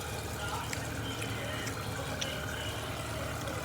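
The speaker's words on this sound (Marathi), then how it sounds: "ॲटोमॅटिक पाणी सोडलं जातं" Water from an automatic tap system flows for goats on a farm, a steady, faint pouring and trickling hiss that continues unbroken.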